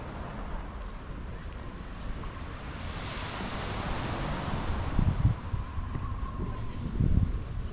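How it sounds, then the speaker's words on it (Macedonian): Waves washing onto the beach at Bar, Montenegro, a soft continuous surf hiss with gentle swells rising and falling, mixed with wind buffeting the microphone. "Има бранови, ама не се со кафе конзетет како што ви покажав претходно"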